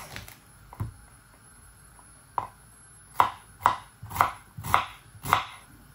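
Onions are chopped with a knife in a series of crisp, close strikes on a board, a few spaced hits at first and then a steadier run of chops roughly every half second.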